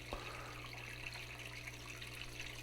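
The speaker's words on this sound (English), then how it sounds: "Water flow is good. I like the way it's running off the table." Water runs steadily off a custom slate miller table used to process 60 mesh concentrates, a continuous close splashing wash with no pauses.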